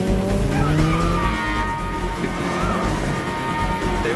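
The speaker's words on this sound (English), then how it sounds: "The team successfully pursued the truck and engaged in a high-speed chase through a crowded street" High-speed chase through a crowded street in pursuit of a truck: loud roaring car engines with squealing, skidding tires, dense and close, with no talking.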